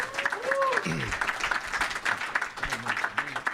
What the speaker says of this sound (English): So y'all make some noise for our panelists here. Y'all clap it up.